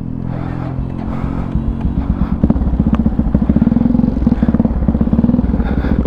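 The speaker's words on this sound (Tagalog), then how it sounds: "Medyo sobrang palyado siya ngayon, kaya kailangan natin ipaayos kay Red Zaido" A misfiring cafe racer motorcycle engine idling close by, a rough, uneven chugging with irregular pops and thumps that settles into a rapid stuttering beat.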